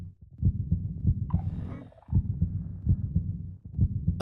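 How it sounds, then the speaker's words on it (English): A steady synthetic heartbeat from the Minecraft Decked Out dungeon game pulses in a regular double-thump rhythm that grows faster. A brief hiss interrupts it midway, and no one speaks. "the heartbeat will start picking up"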